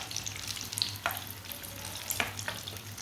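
Potato tikki fry gently in a pan, a soft, steady sizzle with a few sharp pops and brief clicks of a utensil touching the pan.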